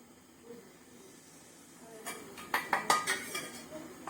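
Chilli powder, coriander powder and mutton masala are stirred into wild boar meat in a cooking pot, where a quiet start gives way to a run of close metallic scrapes and clinks.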